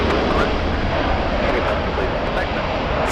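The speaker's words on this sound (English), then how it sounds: "Still a pretty epic takeoff." Global 9356 heavy jet taking off at Los Angeles LAX airport, a steady broad engine roar filling the whole stretch, loud and continuous with no let-up.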